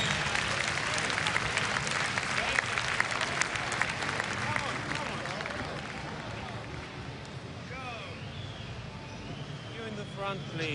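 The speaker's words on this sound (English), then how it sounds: "A big round of applause, please, for all three" A large crowd applauds for the three teams at the IEM Hanover Counter-Strike grand final, steady dense clapping filling the arena throughout with an announcer talking over it.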